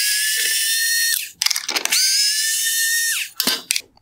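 A power screwdriver whines at high pitch while backing out two T20 Torx screws from a 2012-2017 VW Tiguan bi-xenon headlight bracket, each long run winding down, with clicks and rattles of handling between.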